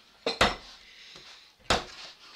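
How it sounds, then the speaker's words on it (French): A knife strikes a cutting board while onions are sliced thin for a beef and potato gratin, a few sharp separate knocks with quiet gaps between them, close by and with no one talking. "on va couper les oignons"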